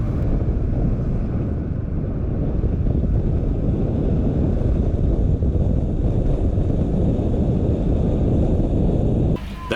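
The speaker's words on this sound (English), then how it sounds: "Okay, so this is the full throttle run here." A 1965 Mercedes 220SB sedan runs at full throttle, heard from inside as a loud, steady roar of engine and wind buffeting that continues unbroken for nearly ten seconds.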